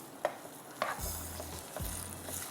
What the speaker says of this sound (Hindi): चिकन को हम डाल के 5 मिनट फ्राई करेंगे जब तक चिकन पिंक से वाइट हो जाए